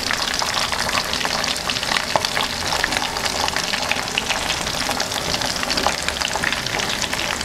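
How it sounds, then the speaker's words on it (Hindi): Potato cutlets (aloo kebabs) fry in hot oil, a loud, continuous crackling sizzle dense with popping bubbles that never lets up. "ये देखें कैसे मज़े के इसमें बबल्स बन रहे हैं और इसमें आलू के कबाब जो है, जो कटलेट्स हैं वो बन रहे हैं"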